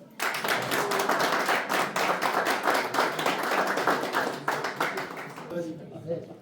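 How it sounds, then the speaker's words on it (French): An audience at a silver-medal award ceremony for a Strasbourg hotel claps loudly and continuously, with sharp individual hand claps standing out and the applause thinning near the end. "Et on va le applaudir une dernière fois."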